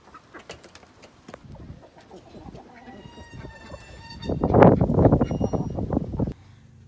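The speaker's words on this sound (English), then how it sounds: "Chickens don't really hang out there that much. Usually just in this pen" Chickens cluck in a hen house pen, with soft scattered calls early on that build into a louder, denser stretch of clucking and squawks near the end, heard close up and with no talk.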